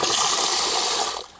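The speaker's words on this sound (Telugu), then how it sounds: "మా దగ్గర అయితే కంటిన్యూ వస్తూనే ఉంటాయి నీళ్ళు" Spring water in a tribal village flows continuously, giving a steady close rush of running water that drops off near the end.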